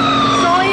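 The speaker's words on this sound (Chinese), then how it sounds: "消防车、云梯车全部赶到现场" A fire engine's siren wails loudly and close by, its rising and falling tones steady, as crews arrive at a rooftop fire at a hotel on Xining South Road in Taipei's busy Ximending district.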